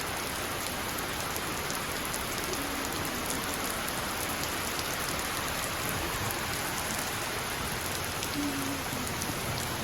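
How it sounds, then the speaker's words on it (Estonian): Heavy rain pours down in a dense, constant roar of drops, loud and unbroken throughout, with no voices. "Isegi auto ei sõida, nii kõva vihm."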